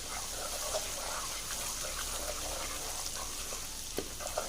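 Semolina and gram flour sizzling in hot ghee over a medium flame, a steady soft frying hiss with a couple of faint clinks near the end.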